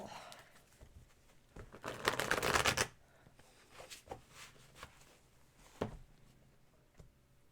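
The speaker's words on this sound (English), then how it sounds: "One more shuffle." Playing cards riffle in a quick, crisp burst, then softer taps and snaps as the deck is squared, quiet and close.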